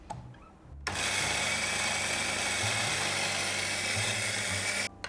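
A burr coffee grinder set to a fine 1.5 setting grinds beans for a Bialetti Brikka moka pot, a loud, steady whirring grind running about four seconds alone after a quiet start, then cutting off.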